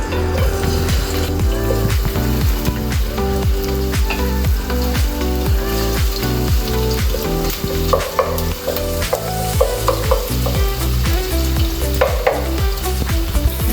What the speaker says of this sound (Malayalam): ഇതിലേക്ക് ആദ്യം ഇഞ്ചി വെളുത്തുള്ളി ചതച്ചതാണ് ആദ്യം ഇടുന്നത്.